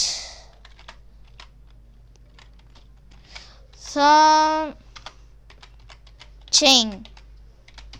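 Typing on a computer keyboard while writing Python code, a run of light, scattered key clicks spread across the span with a voice speaking briefly in between.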